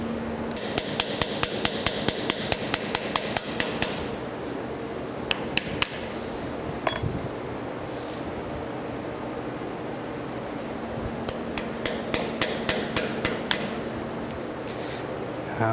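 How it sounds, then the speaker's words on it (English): Soft blow hammer driving parts onto the quick change gearbox of a LeBlond lathe being restored, with loud, sharp metallic knocks in rapid bursts, then pauses and further clusters of strikes close up. "So I'm driving these on with a soft blow hammer, guys."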